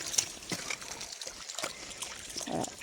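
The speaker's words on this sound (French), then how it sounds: "nous sommes au ruisseau des Trois Bancs" A small woodland stream, the Ruisseau des Trois Bancs, trickles and dribbles quietly and continuously, with soft, faint water babble close by.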